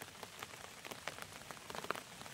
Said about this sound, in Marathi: पाऊस आहे बारीक बारीक पाऊस आहे